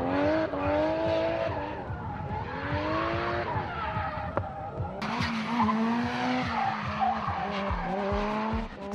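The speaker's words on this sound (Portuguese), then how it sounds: "Ele corrige a trajetória por várias vezes durante o drift" A Nissan Laurel drifts at a 2006 drift festival in Honjo, Saitama, its tires squealing and skidding in long wavering howls over a revving engine, loud and sustained through the whole stretch.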